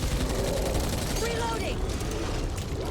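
Gunfire in Back 4 Blood, a dense stream of shots and booming impacts filling a steady, loud game mix, with a voice briefly talking over it.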